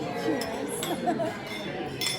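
Champagne glasses clink in a toast at a wedding reception, a few bright chimes rising over steady crowd chatter and cheering voices nearby.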